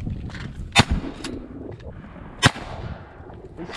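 Shotgun blasts on a duck and goose hunt: two sharp, loud shots about a second and a half apart, with some quieter outdoor noise between them.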